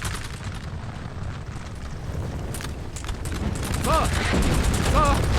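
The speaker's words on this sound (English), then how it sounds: "Man, just brutal volley fires here" Massed musket volleys crackle in a Napoleonic battle game set in Egypt, a continuous dense roll of gunfire with sharp reports and booming cannon mixed in, while a voice talks over the din and high whistling tones rise near the end.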